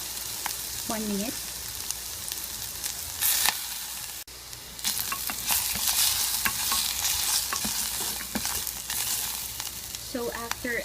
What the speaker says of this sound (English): stir it along with the pork and let it cook for about